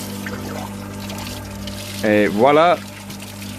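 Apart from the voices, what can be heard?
pump pouring water into a spa boat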